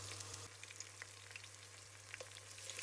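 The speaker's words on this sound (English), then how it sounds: "heat some oil, then add the chopped onion" Chopped onion fries in hot oil in a pan with a steady, close, crackling sizzle and occasional pops, with no talking.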